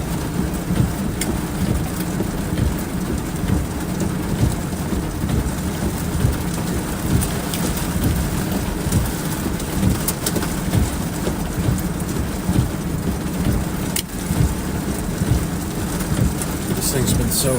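Heavy, steady rain pours during a rain-wrapped tornado storm on the Texas coast near Anahuac and Port Arthur, a dense constant hiss with occasional sharper taps and faint rumbling underneath.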